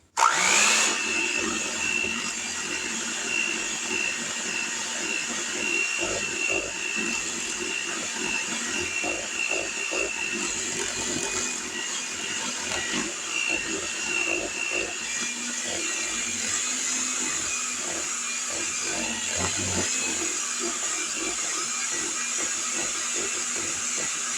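A motorized electric mixer mixing applesauce donut batter whirs steadily at close range after a sudden start, a continuous high-pitched hum with faint rattling and no speech.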